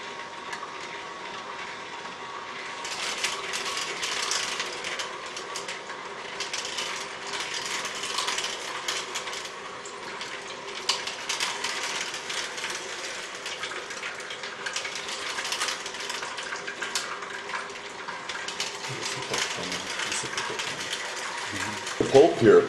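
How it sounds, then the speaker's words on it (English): An Omega VRT slow juicer grinds pomegranates with a steady mechanical whirring and crunching, a near and continuous motor drone running throughout, with a few louder knocks near the end. "Let's see how the Omega works with this"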